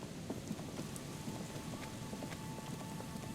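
Steady rain in the video game Disco Elysium, a dense continuous hiss of drops with a low rumble of thunder underneath, holding at an even, moderate level throughout with no voices.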